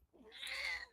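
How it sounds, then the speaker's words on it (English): A house cat lets out a single drawn-out meow, faint and somewhat distant, rising into a bright, strained cry that lasts about a second. "That's my cat."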